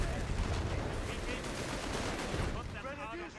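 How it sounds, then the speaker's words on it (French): Dense rapid machine gun fire and battle noise from the Company of Heroes 3 strategy game rattles continuously, loud and close. It fades near the end as faint voices and warbling effects come through. "Encore une machine gun."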